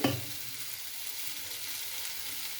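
Millet paste and urad dal batter, seasoned with cumin and salt, stirred together for navane akki dosa; a soft, steady wet churning close by and quiet, with no talking.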